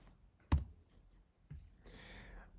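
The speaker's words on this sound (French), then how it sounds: "Sur votre ordinateur, vous pouvez aussi appuyer sur la touche E du clavier." A single computer keyboard key is pressed, giving one sharp, close click early on, followed by faint rustling and a soft breathy noise in an otherwise quiet room.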